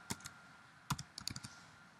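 A few scattered keyboard keystrokes during a software engineering lecture, tapped on a computer keyboard in short isolated clicks and a small cluster near the end, quiet and close with no talking.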